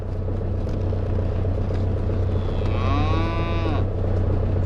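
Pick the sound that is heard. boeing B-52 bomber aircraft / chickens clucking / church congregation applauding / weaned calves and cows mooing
weaned calves and cows mooing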